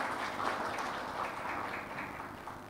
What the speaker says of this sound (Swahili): Makofi kwa Mheshimiwa Rais tafadhali